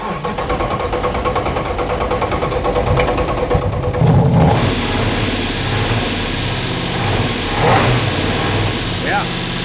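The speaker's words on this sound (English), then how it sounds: "I may have to work the throttle a little bit" A 1970 Dodge Dart with a swapped-in 6.4 Hemi V8 rumbles at idle, then the throttle is blipped into a louder, rougher rev that settles back, while people talk nearby.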